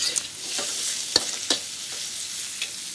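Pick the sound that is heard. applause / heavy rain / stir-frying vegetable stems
stir-frying vegetable stems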